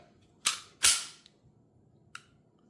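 Smith & Wesson BodyGuard 2.0 Carry Comp pistol dry-fired at close range: two sharp trigger-break snaps half a second apart, a faint click, then a lone crisp click of the trigger reset near the end, with no talk.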